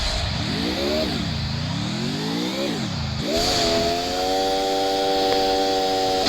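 A vehicle in the Free Fire video game drives with a loud, near engine whose revving pitch sweeps up and down twice, then settles into a steady, higher drone.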